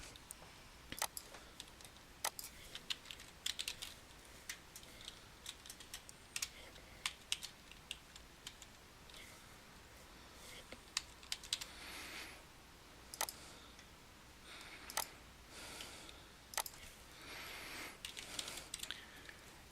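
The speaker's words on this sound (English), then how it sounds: "And again, typing in the required fields." Steady typing on a computer keyboard while filling in form fields, with irregular bursts of sharp, close key clicks and pauses between runs, fairly quiet and without talk.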